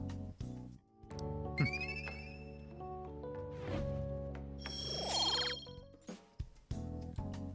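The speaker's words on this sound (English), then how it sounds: "you are given a small chime every time you do something in the real world to increase any of your stats" Bright electronic chimes and tinkling tones ring out in quick succession, layered with rising sweeps: the small reward chime from Persona 5, played for a real-world stat-raising action.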